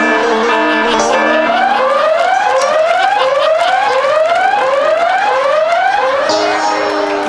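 A loud electronic alarm wails in a fast series of rising sweeps, repeating steadily without a break for several seconds.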